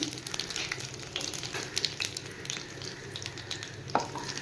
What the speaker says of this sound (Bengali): একটু কালো দিয়ে আর শুকনো লঙ্কা ফোড়ন দিলাম